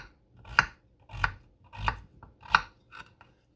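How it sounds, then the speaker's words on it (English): A knife chops beef stew ingredients into bite-sized pieces on a board, giving about five evenly spaced, crisp strikes roughly two-thirds of a second apart, close and clear with no talking. "what I'm going to do is chop them in bite-sized pieces"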